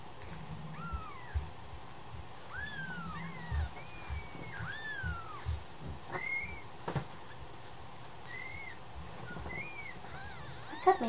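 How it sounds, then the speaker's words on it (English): Little kittens meow in a quick, high, repeated chorus of short rising and falling cries, close and fairly soft, with faint background noise between calls. "And here's these beautiful little kittens."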